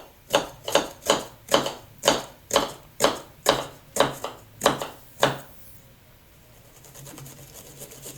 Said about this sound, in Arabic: ونبدأ نقطع البصل. نقطع البصل إلى قطع صغيرة.